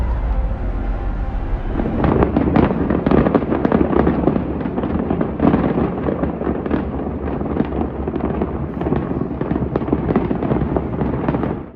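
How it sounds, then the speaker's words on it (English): Fireworks at the Las Vegas Grand Prix crackle and pop continuously in a dense, loud barrage, with many overlapping bursts and low rumbling booms, heard from a distance without talk. "Oh, there are the fireworks."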